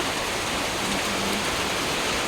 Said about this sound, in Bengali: দেখো বাইরেটা প্রচুর বৃষ্টি হচ্ছে